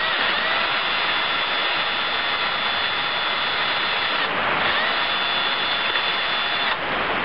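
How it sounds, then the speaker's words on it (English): A cordless variable-speed drill whines continuously at steady speed while reaming holes in a metal injector removal tool for an Isuzu 4JX1 diesel engine, with a slight dip in pitch partway through, close and loud. "Marvellous thing, a rechargeable drill"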